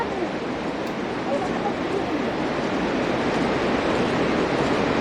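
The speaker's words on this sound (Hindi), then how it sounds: "धरती के नीचे से बहता हुआ ये नदी चले जाती है अलकनंदा तक" The Saraswati river near Badrinath rushes in a loud, continuous broadband roar that stays even throughout, with no break or distinct voice.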